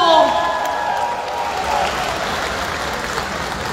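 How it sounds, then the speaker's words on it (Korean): Audience applause at a Korean Democratic Party convention rally in South Jeolla, a broad steady clatter of clapping from a crowd that runs throughout, with a brief voice and tones at the start. "여러분 박수 한번 주십시오."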